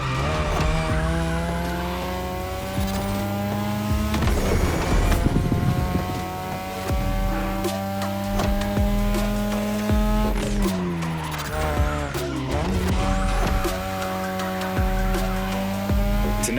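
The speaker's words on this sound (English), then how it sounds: "Tonight, your ride is a 3rd Gen 2002 Mazda RX-7. Lightweight, compact, a sick rotary engine" A 2002 third-generation Mazda RX-7 with a rotary engine drifting in The Crew Motorfest racing game, its engine revving high and shifting through gears while tires squeal loudly in long skids and the car roars continuously up close.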